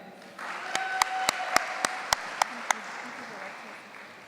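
At a primary schools debating championship evening, a run of eight sharp, evenly spaced claps stands out over a quieter bed of murmuring room noise and a faint voice.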